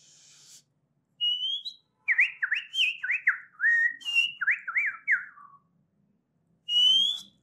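A person whistles an imitation of the white-rumped shama's signature song: a clear opening note, then a run of quick rising and falling whistled phrases, a pause, and a final bright note, close and alone.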